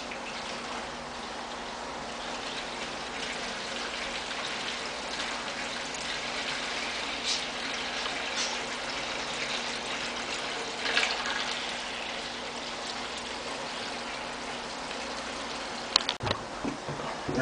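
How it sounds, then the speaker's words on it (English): Aquarium water drawn off by siphon from a 10-gallon tank into a bin, a steady close trickling and gurgling flow that holds alone and unbroken, ending with a brief bump near the end. "I siphon a little bit of the water from the tank"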